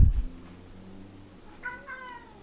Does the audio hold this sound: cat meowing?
yes